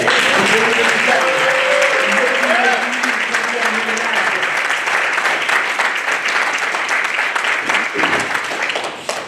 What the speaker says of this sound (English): If everyone can give them a hand clap.